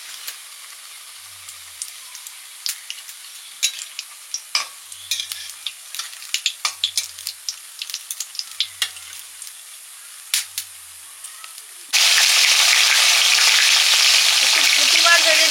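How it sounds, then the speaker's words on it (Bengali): Battered eggplant fritters (beguni) fry in hot oil: scattered crackles and pops, then a sudden, loud, steady sizzle that fills the last few seconds. "দুপুরের জন্য আর একটু বেগুনি ভেজে নিচ্ছি"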